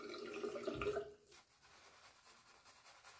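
Water is added to shaving soap as it is lathered: a running trickle with splashy mid-range texture for about a second, then a softer wet, faint residual sound with no talk.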